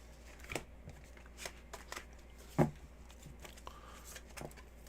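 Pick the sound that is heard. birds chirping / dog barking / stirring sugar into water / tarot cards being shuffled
tarot cards being shuffled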